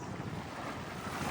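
Sea waves at Waikiki beach roar in a continuous, dense wash, mixed with wind buffeting the microphone and with no voices over it.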